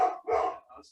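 A dog barks a couple of times close by, short sharp yelps with a brief whimpering tail, no speech around them.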